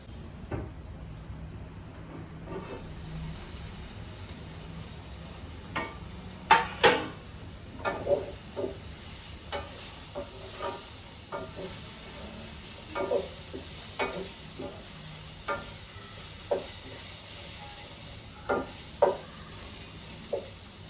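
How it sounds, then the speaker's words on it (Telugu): Onions frying for a masala curry to go with masala dosa, a steady sizzle in the pan broken by repeated sharp scrapes and clatters of a spoon stirring, close and fairly quiet, with no talking. "కాబట్టి ఉల్లిపాయ పూర్తిగా వేగాలి"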